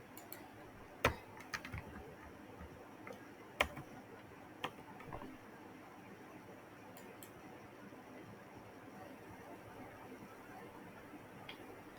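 Faint, sparse computer mouse clicks, a few sharp ticks clustered early and then scattered, with a quiet room hum and no talking.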